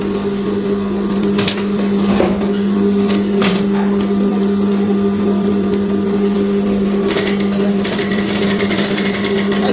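Domestic sewing machine stitching fabric steadily for about ten seconds, a loud continuous motor whir with rapid needle clatter, a brief change in pace partway through, and faint speech in the background.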